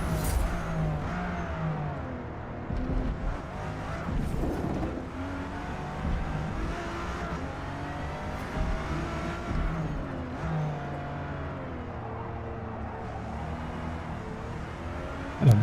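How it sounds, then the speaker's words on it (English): A racing car in Forza Motorsport drifts through a corner, its engine droning and revving steadily throughout with shifting pitch and occasional tyre noise, continuous and fairly loud with no talking. "And I'm drifting around the corner here."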